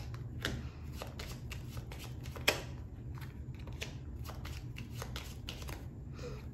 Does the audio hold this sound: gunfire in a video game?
no